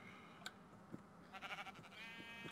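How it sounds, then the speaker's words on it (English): Sheep bleat in the video game WayWard Wonder, a few short faint calls spaced out over a quiet game background, with a brief cluster of bleats near the end. "Because there is an awful lot of sheep."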